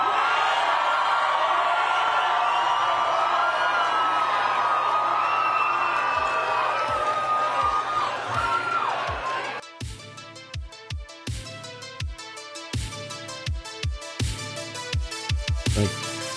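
A crowd at a street rally cheers and whoops loudly with sustained shouting for several seconds, then breaks into rhythmic clapping and sharp bursts of claps and shouts.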